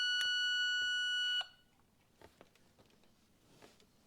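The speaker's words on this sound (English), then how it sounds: "that's the sound of the buzz box." Buzz box continuity tester droning a loud, steady electric buzz for about a second and a half while points are set on a 1973 Suzuki TC125 motorcycle, then cutting off abruptly and leaving faint clicks and handling noise.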